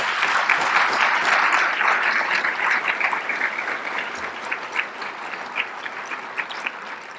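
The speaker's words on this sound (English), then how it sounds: "let's give them all another round of applause" A large audience at a Hall of Fame awards ceremony applauds the honorees, and the dense, steady clapping fills the whole stretch before slowly thinning out toward the end.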